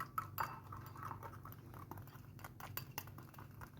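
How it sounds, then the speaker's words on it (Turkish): A small whisk stirs salad dressing of oil and salt in a bowl for a Turkish shepherd salad, making faint, quick, steady clicking and scraping against the sides without any talk. "Güzelce karıştırayım şu küçük çırpıcımla."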